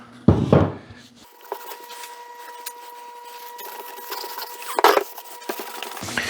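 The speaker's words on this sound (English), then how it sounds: "These take a while to sand too." Scratchy rubbing of sandpaper on a wooden frame, a loud scrape at the start and another near the end, with a steady faint hum in between.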